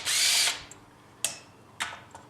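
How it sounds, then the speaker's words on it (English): A clutched cordless screwdriver with an attachment removing Allen screws from the front of a pump: one short whirring burst followed by two sharp clicks as the clutch slips, close and clear with no talk. "my favorite tool is a clutched cordless screwdriver"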